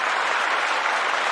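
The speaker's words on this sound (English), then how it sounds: "deserves a round of applause" Steady, dense applause from a large audience fills every moment, loud and even throughout, with no talking on top.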